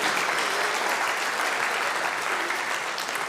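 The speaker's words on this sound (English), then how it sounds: "let's give a round of applause for the work that the pantry does every week" An audience at a community gathering applauds in dense, steady clapping that fills the room for a few seconds, loud and sustained without a break.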